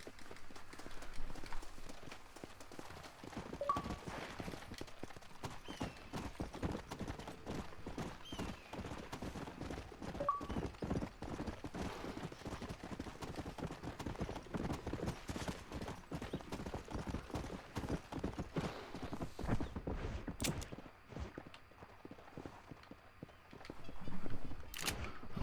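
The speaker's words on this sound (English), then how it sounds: "And my horse is running away from me." A horse gallops off in Red Dead Redemption, with rapid, rhythmic hoofbeats pounding steadily for about twenty-five seconds and a brief louder swell near the end.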